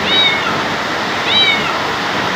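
Two short, high-pitched cat meows rise above a loud, steady rush of heavy rain and floodwater entering a house.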